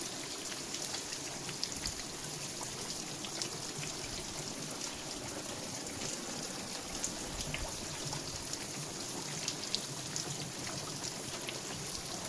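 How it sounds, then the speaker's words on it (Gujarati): Steady rain falling on a village yard, a continuous soft hiss of drops with scattered sharper patters and trickles, constant and fairly quiet, with no voices. "વરસાદ હજુ ચાલુ છે, તમને બતાવું દેખો વરસાદ પડવાનો હજુ ચાલુ છે"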